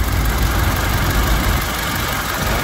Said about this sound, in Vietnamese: Máy nổ siêu êm